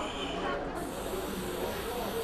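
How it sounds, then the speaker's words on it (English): An aerosol can of hairspray sprays over scenic foam model trees in one steady, close hiss that runs for the whole moment. A soft voice speaks faintly beneath it. "spray them good with hairspray"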